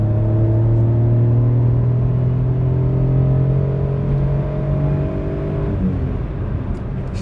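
A Daewoo Matiz with an 800cc three-cylinder engine accelerates from inside the cabin, its steady droning note rising in pitch over several seconds with road rumble beneath, then easing near the end.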